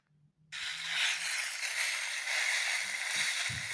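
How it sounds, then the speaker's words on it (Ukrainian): Dry autumn leaves rustle and crackle underfoot in a forest, a continuous, close hiss after a brief quiet start. "Це шелест листя під ногами."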